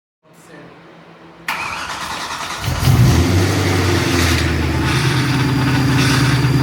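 BMW E92 M3 V8, freshly repaired, cranking over then catching and firing into a loud, rough idle that settles into a steady deep rumble close by, with no talk.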